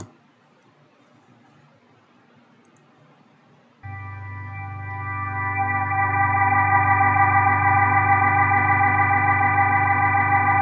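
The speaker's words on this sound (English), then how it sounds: "Leslie speaker sound." A Leslie rotating speaker plays a sustained organ-like chord that enters abruptly after near silence and holds steady and loud with a pulsing warble, alone without talk.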